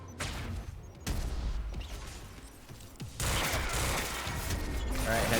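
Bursts of gunfire crack out in the video game Quantum Break, loud and close, in rapid volleys with mechanical clatter in between. The shooting grows denser and stays continuous toward the end.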